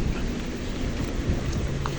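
Heavy, sudden rain pours down at night in Iraq, a dense, loud, steady wash of noise with scattered splashes and no voices.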